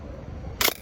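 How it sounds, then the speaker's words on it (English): Mamiya M645 medium format film camera firing its shutter once, a short, crisp, close mechanical snap following a quiet stretch. "watching the shutter go off also does it for me. The sound of the shutter,"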